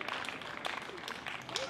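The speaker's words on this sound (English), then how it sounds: "Get a big round of applause." At a Juneteenth celebration in Keene, New Hampshire, an audience applauds in a brief, faint, scattered patter of clapping.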